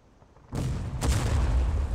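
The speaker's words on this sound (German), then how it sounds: "Der Schuss ging drüber." A loud gunshot in the War of Rights video game, a Civil War-era musket shooter, cracks suddenly out of near-silence, followed about half a second later by a second sharp report and a lingering rumbling tail.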